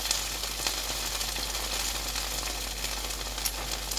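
A corn quesadilla with cheddar fries in olive oil in a pan, giving a dense, continuous sizzle and crackle that stays steady and close throughout, with no talking.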